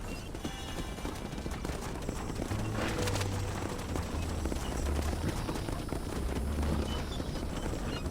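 Several horses gallop in the open-world western game Red Dead Redemption, hooves drumming in a steady clip-clop rhythm at moderate loudness, with faint ambient noise and no speech.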